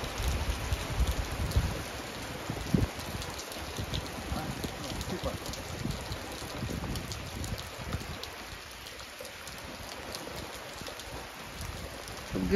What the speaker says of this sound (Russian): Ливень, просто ливень.